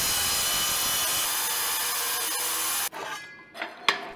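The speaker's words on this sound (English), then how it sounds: "What I'm gonna do is just cut 2-inch strips of the same tile I used on the floor and" A saw steadily cuts 2-inch strips of ceramic floor tile for bathroom trim in an abandoned-building renovation, giving a continuous harsh grinding rasp for about three seconds before it stops, followed by a few faint knocks and scrapes. No one talks.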